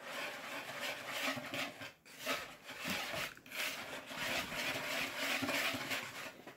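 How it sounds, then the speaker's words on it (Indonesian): Martabak batter of flour, sugar and eggs is stirred in a bowl, a soft, continuous scraping and rubbing with brief pauses, faint and close. "Dan kita aduk dulu ya."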